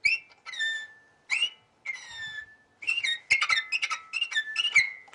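A violin imitates birdsong with quick chirps, sliding whistle-like notes and short sustained tones. They come in separate bursts, then a denser flurry near the end, played alone and fairly close.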